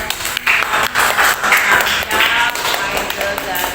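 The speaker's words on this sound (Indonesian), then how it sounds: "Tepuk tangan dulu buat" A school class applauds two students, a steady wash of clapping from many hands in a room, fairly loud, with voices mixed in underneath.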